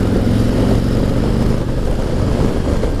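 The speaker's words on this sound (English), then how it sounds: "the exhaust is quiet, but it's still got some grunt to it" A 2019 Harley-Davidson Street Glide Special with the 114 engine and stock exhaust gives a steady low rumbling drone while riding, loud and close, with a deep throaty grunt under mild wind noise.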